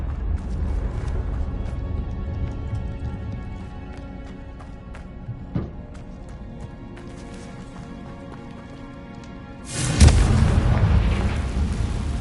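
Confringo blasting spell fired in the Hogwarts Legacy video game, a sudden loud burst near the end that erupts from a busy backdrop of crackling game effects and rumbling mechanisms.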